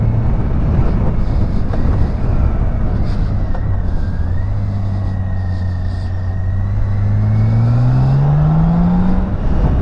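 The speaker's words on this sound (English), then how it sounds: "Let's go ahead and get her in sixth gear and let her have some float time." A BMW K1600B bagger motorcycle cruises steadily in sixth gear on an open road, its smooth engine drone loud and continuous under strong wind rush, with a gentle pitch rise near the end.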